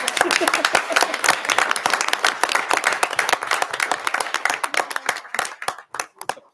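Audience at a city council meeting clapping for an award recipient, a dense burst of hand claps that thins into scattered separate claps and dies out near the end.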